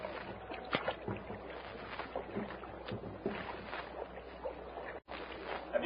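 Boat paddles stroking downstream on a river, a steady wash of water and rhythmic splashing under wind noise, moderately close with one sharp knock near the end.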